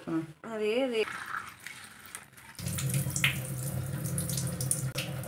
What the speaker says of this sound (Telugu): ఇప్పుడు బాగా కడుక్కొని 4-5 సార్లు కడిగి